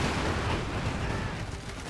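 Vickers machine gun fire in the Company of Heroes 2 video game, heard as a dense, continuous wash of battle noise with steady, rumbling shots and no clear pauses.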